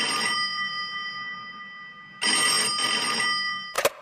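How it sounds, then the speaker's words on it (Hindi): A landline telephone rings in a room with bright electronic trills in bursts, a sustained ring stretch, then a brief clatter at the end, loud and close with no talk. "उसके कमरे का लैंडफोन बजा।"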